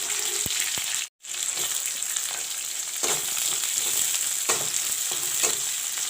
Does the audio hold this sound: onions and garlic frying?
yes